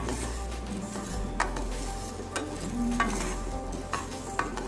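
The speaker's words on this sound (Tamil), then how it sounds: "1 டீஸ்பூன் மிளகு, 1 டீஸ்பூன் சீரகம் எல்லாத்தையும் சேர்த்துட்டு நல்லா வறுத்துக்குவோம்" Pepper and cumin dry roasting in a pan for idli podi give a low, steady crackle with periodic stirring scrapes and light knocks of the spoon, close and moderately loud.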